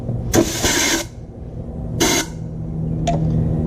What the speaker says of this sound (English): Take my air compressor.